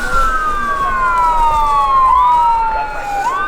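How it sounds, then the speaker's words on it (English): A wailing ambulance siren sweeps up and down in pitch, loud and close, arriving at a roadside car crash, with traffic rumble underneath. "That's an ambulance."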